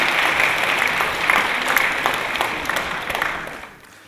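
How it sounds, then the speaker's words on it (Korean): Warm congregational applause during a Sunday church worship service, a dense crowd clapping steadily before fading out near the end. "박수를 올려주시면 감사드리겠습니다."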